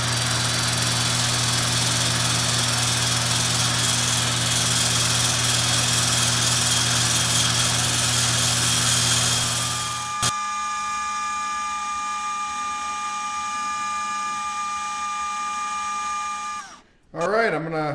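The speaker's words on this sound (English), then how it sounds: "I'm going to sand it down really fast." A lathe spins a bloodwood bowl for fast sanding, giving a loud steady motor hum with tonal whine for about ten seconds before it shuts off and winds down, leaving a quiet fading tone and a brief clatter.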